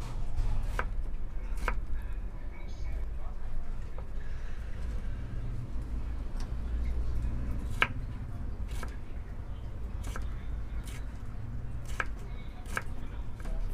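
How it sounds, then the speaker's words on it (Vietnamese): Knife chopping potatoes into thin strips on a cutting board, with steady, close, repeated blade strikes throughout and sparse sharper knocks. "cắt sợi mình cắt mỏng vậy nè"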